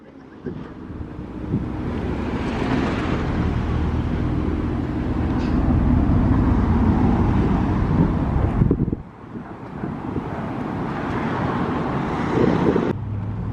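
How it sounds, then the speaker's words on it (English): A classic Ford recovery truck on the Cheshire Run 2021 rumbles past close by, its engine noise building to a heavy peak and then cutting off sharply, followed by a second, lighter surge, all under gusty wind buffeting. "Ford recovery truck now."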